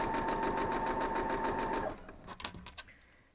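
Sewing machine stitching an Ohio star quilt block, a steady fast mechanical whir for about two seconds, then stopping, followed by a few quiet clicks and fabric handling sounds.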